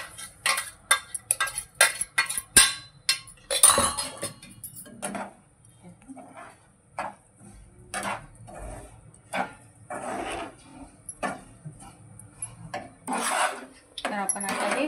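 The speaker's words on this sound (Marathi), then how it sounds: "आपण आता हे स्टर करून घेतलेले आहे" Sesame and peanut mixture stirred in a pan, with repeated clinks and scrapes of a utensil against the metal in irregular bursts, close and fairly loud, with quieter gaps between.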